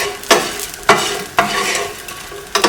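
Bread cubes for a salad sizzle in a hot pan while a utensil stirs them, scraping in regular strokes about every half second. The frying is close and steady, and no one talks.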